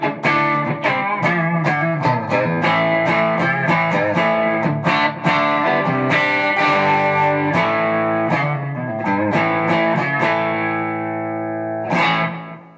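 Electric guitar through a TC Electronic DarkMatter distortion pedal, played in a hard-rock style: a dense run of gritty, saturated notes and chords, loud and close, ending on a sustained ringing chord with a final strum.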